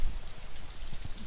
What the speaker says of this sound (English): It's barely kind of drizzle raining right now